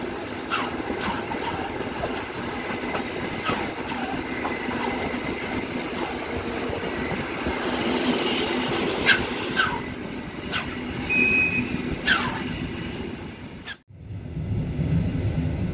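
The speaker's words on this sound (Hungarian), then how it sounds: "Vonatunk a magyar határ közelében, haladó Kassa, Rozsnyó, Feled, Losonc, Zólyom vonalon közlekedik" R 800 Polana train running between Kosice and Bratislava near the Hungarian border, wheels rolling steadily on the rails with a continuous rumble, repeated metallic squeals and clacks, then a brief drop before the noise resumes.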